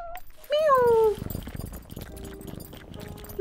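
A cat meows in the video game Yonder: The Cloud Catcher Chronicles, one clear, drawn-out falling meow near the start, followed by softer game ambience with faint tones.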